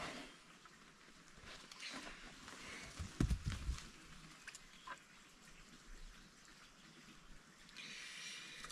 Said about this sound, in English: we're gonna put about this much water. Actually, we'll do that right now